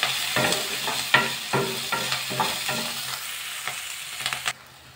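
Chopped onion, garlic and ginger are stirred in a hot pan with a spoon, a run of rhythmic scraping strokes over a soft oily sizzle, close and fairly quiet, with no talk.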